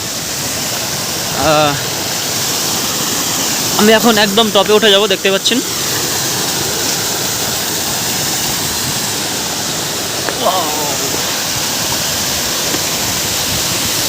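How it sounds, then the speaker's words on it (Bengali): A waterfall at Rock Garden in Darjeeling pours in a loud, steady broadband roar that fills the whole scene, while someone speaks briefly over it now and then. "ঝর্ণা বইছে।"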